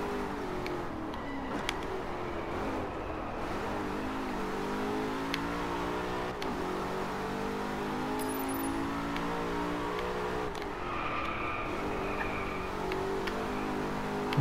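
In the racing game Drive Club, a car engine drones steadily, its pitch climbing and falling in repeated revving sweeps as the car accelerates and eases off, heard alone and up close.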